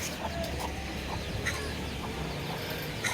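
Young chickens cluck and cheep softly on a rooftop garden at midday, with scattered short calls spread across a low outdoor background.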